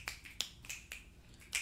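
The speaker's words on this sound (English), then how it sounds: "snap your fingers" A run of crisp finger snaps, about six sharp, close clicks spaced irregularly over a quiet background, with no voices.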